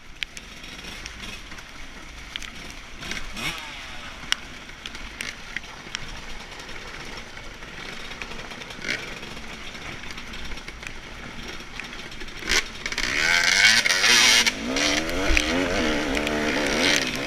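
A dirt bike engine labors on a hill during a hillbilly GP off-road race, its note rising and falling unevenly, then a louder, strained revving burst swells near the end.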